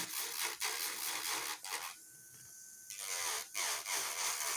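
A high-pitched electric nail drill at 6,000 RPM whirring in short bursts against an acrylic nail, with a brief pause in the middle before grinding resumes.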